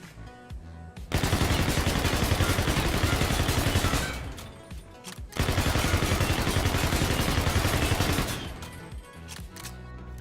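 An unsilenced UMP fires in Call of Duty: Infinite Warfare, two long, loud automatic bursts of rapid gunfire separated by a short pause.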